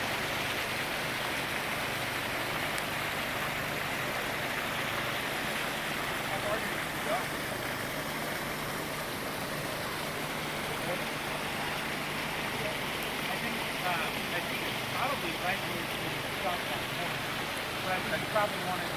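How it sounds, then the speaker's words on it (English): Floodwater rushing down a valley ravine during spring flooding, a steady broadband roar of moving water that stays continuous and fairly even throughout, with no distinct pauses. "It's just a sudden rush of water down the valley."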